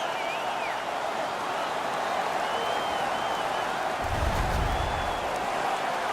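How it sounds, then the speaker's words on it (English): Arena crowd in the NHL 17 hockey game roars and applauds after a fight, a steady broad wash of cheering throughout with a low rumble swelling near the end. "The crowd is now back in it."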